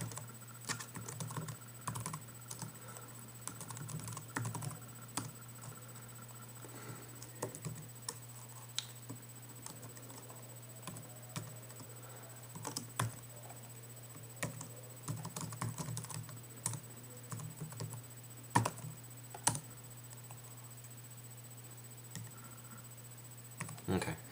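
Typing on a computer keyboard while writing Objective-C code, irregular bursts of quiet close keystrokes and clicks over a steady low hum, with brief pauses between runs.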